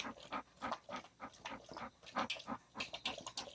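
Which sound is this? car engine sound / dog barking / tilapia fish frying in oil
dog barking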